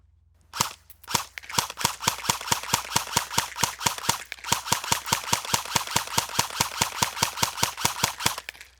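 Airsoft gun firing a rapid, steady stream of sharp cracking shots at a target about 50 feet away, after two separate opening shots, loud and close with no talk.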